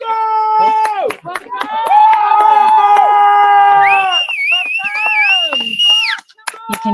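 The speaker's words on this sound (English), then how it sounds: "You can hear some serious cheering" Loud cheering and whooping from a crowd greeting runners at the finish of the Thames 200 ultramarathon, with high shouted calls and scattered claps and voices mixed in throughout.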